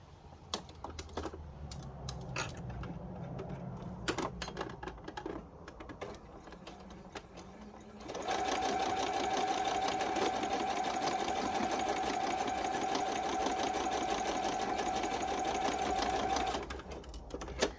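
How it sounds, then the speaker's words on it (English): A sewing machine stitches a quarter-inch seam through fabric for a flying geese quilt block, starting with light handling and taps, then running in a steady, loud continuous whir for about eight seconds before stopping. "we're just going to feed it through the sewing machine, let the machine do its thing"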